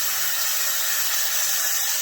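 Water hits a hot pan holding lobster and flashes into steam, giving a steady, close hiss that stays even and unbroken for the whole stretch.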